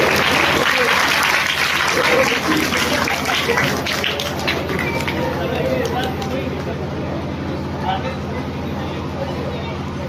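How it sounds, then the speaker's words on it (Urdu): Applause welcoming a guest at a nursery and pre-school event, loud and dense from a crowd, tapering slightly over ten seconds with a murmur of voices mixed in. "تالیوں سے استقبال کیا جائے"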